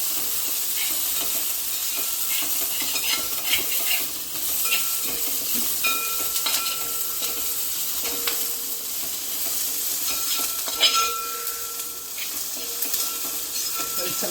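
Chicken biryani masala with a bay leaf being stirred in a pan, with steady sizzling and intermittent scraping and clinking of a utensil throughout, a faint voice occasionally underneath.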